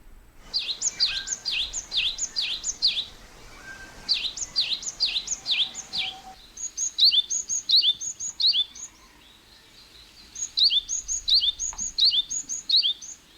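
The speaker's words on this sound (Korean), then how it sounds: "이 아름다운 새소리의 주인공은 바로 박새입니다." A Japanese tit sings repeated bright two-note phrases in several bursts, clear and fairly close, with quiet pauses between.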